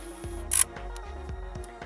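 A Canon PowerShot SD870 compact camera zooms its lens in, giving a brief high-pitched whir among soft clicks and a low background hum, heard close and quiet.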